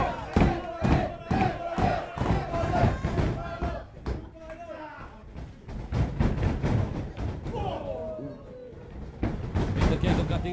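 A large crowd at a wrestling show roars and cheers in a loud, continuous wave, with rhythmic bursts and chanting swelling throughout.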